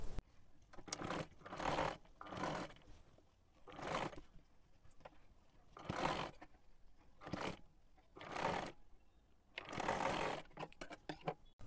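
A sewing machine stitches around a kurti neckline in repeated bursts of rapid mechanical whirring, each run lasting about a second, separated by short pauses, close and clear with no voices.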